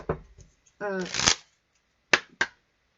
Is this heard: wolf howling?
no